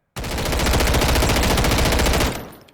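A Norinco QBZ-95B rifle in Call of Duty Modern Warfare III fires one sustained, rapid full-auto burst of about two seconds. The shots are loud and close, with no talk, and the burst ends in a short fading tail.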